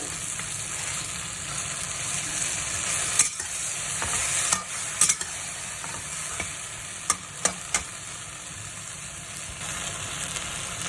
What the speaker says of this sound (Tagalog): Igisa natin saglit yung karne hanggang ma-absorb niya yung magic sarap